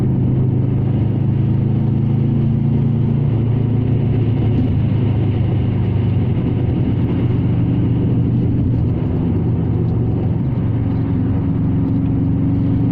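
Steady engine drone with deep low rumble from inside a moving Subaru Impreza accelerating, continuous and fairly loud, no voices.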